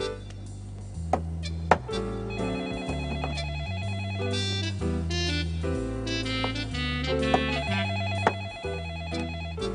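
A phone rings with a repeating electronic ringtone melody over a steady beat, playing clearly on its own without voices.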